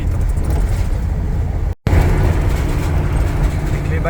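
Busy highway traffic on the road toward San Diego, a steady roar of fast-moving cars heard from inside a vehicle, with a brief dropout midway.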